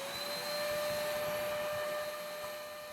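Shop-Vac wet/dry vacuum running continuously, a loud, steady whine with a high motor tone over broad rushing airflow, close up and with no one talking.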